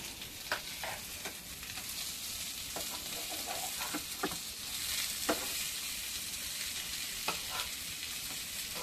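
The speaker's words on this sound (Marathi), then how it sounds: "आता हे एक साइडने मस्तपैकी फ्राय झालेले आहे" Thapi vadi (surlichya vadya) frying in oil in a pan, a steady broad sizzle with scattered sharp pops and spatters, close and continuous with no talking.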